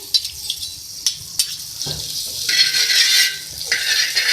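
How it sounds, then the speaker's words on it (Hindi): Butter melts and is spread across a hot tawa griddle: a few light scrapes and clinks of a utensil, then a loud, steady, close sizzling hiss that swells and lingers. "तवा है मेरे पास और मेरे पास यहाँ पर है बटर, ये मैं इसमें ऐड करूँगी और इसको फैला लूँगी"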